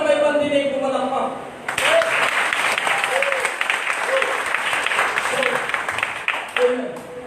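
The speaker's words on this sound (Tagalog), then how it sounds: "Ang lahat ng may pandinig pumalakpak" A church congregation breaks into sustained applause at a worship service, steady clapping filling the room for several seconds after a speaker's voice fades.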